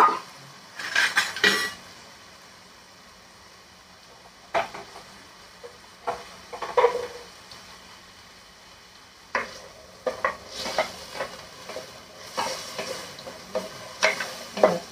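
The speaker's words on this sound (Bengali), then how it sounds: "আলুগুলো একটু ভেজে নিই" Potatoes frying in a pan, with intermittent sizzling and the scrape and clink of a utensil stirring against metal in irregular bursts, no voices.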